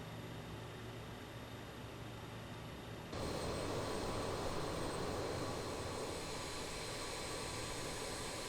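Airliner jet engines spooling up at start in Microsoft Flight Simulator, a quiet steady broadband roar that steps up abruptly in level partway through and then holds, with no voices.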